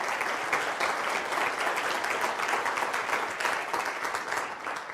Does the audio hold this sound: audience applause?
yes